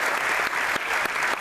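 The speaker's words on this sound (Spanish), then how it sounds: "un aplauso para ella" An audience at a public forum on fracking applauds someone speaker as she arrives, dense steady clapping throughout, close and fairly loud.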